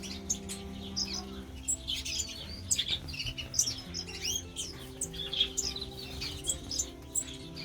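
Tanzanian blue-headed waxbills in a flight aviary give busy, overlapping high chirps and tweets throughout, close and fairly loud over a steady low background hum.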